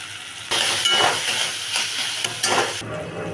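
Lentil dumplings (bori) are stirred in a hot pan with bottle gourd and poppy seed paste, giving close, loud scraping and sizzling bursts in several strokes over a steady hiss of frying.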